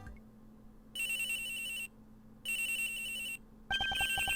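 A telephone rings in the Ace Attorney Investigations 2 video game, with two evenly spaced electronic rings followed by a faster trilling burst, clear and alone.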